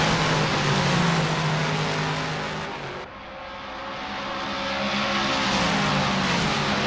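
Toyota Supra LM GT1 race cars in Assetto Corsa roar loudly at steady high revs on a Watkins Glen racing circuit, dipping briefly as gears shift around the three-second mark before climbing again, with engines layered close and continuous, no voices.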